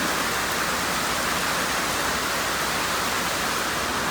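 Steady, gentle rain falls without a break, making a dense and even hiss that fills the whole clip, with no voices.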